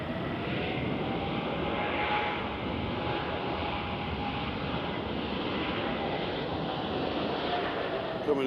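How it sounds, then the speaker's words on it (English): Airbus A350 airliner arriving at Nashville International Airport, a steady low jet rumble and whine spread evenly through the clip, moderately distant with no clear peak. "So here comes a baby A350."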